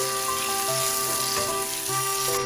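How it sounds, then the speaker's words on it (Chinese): Tomahawk pork chop pan-frying over low heat in its own juices, a loud, constant close-up sizzle with steady crackle and no voices. "另一面沾满锅内汁水后，同样的小火煎至5分钟"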